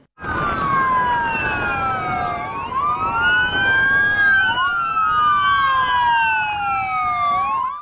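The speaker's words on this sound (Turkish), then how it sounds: "marşların ve siren seslerinin yankılandığı araçlarda" Several wailing police and gendarmerie sirens overlap and rise and fall continuously, loud and close, like a convoy touring a city with marches playing, engine noise beneath.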